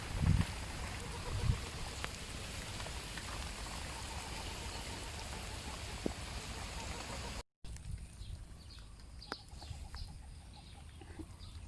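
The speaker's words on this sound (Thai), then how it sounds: "โดนฝนนะครับ" Steady rain hisses in a dense, even wash, with occasional faint knocks and a distant bird call over it.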